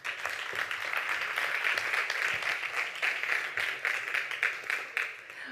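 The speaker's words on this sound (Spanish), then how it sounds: "Un fuerte aplauso para ella." Audience at a forum on women, sport and fertility giving a speaker a round of applause, dense steady clapping throughout that thins toward the end.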